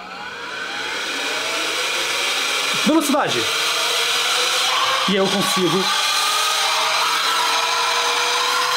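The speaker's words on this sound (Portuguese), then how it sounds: "Eu utilizo esse soprador supersônico." A supersonic USB-C air blower with a small light and two speed levels, used to clean a glossy black PlayStation 5, whooshes in a loud, steady rush throughout while someone talks over it.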